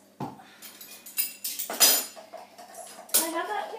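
A spoon clinks and scrapes against a dish while mixing peas and grated carrot, a few bright knocks and rattles close by, with a voice speaking briefly between them.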